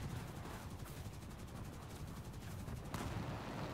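Gunfire in War Thunder strikes the player's vehicle: a dense, rattling stream of rapid shots under steady engine rumble, with a sharper impact crack near the end.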